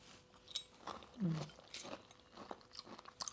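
Chewing crunchy grain-free nut granola close to the microphone, soft crackling bites and munching spread over a few seconds, quiet and intermittent, with a brief voiced sound mixed in.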